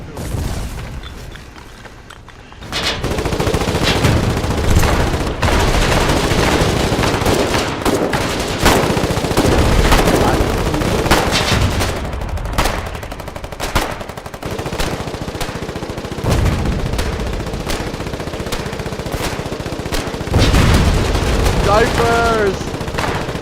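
Rapid bursts of gunfire ring out without pause through a video game battle, loud and near, with repeated booming shots over a constant din, broken by brief quieter gaps.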